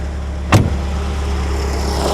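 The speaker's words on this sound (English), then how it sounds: "Idle speed is a much more sensible 850 now" A classic Volkswagen Scirocco engine idles at about 850 rpm with a suspected intake manifold air leak, giving a steady, close low hum broken by one brief knock near the start.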